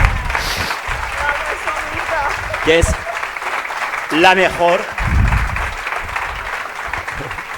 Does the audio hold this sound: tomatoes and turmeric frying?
no